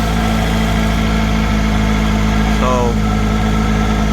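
A Honda Integra engine idling with an exhaust leak at the rear gives a loud, steady, rumbling drone with a faint ticking texture, while a voice briefly speaks over it.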